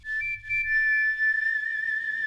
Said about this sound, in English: So we've got our little whistle sound here.